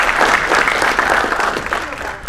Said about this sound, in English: it deserves an applause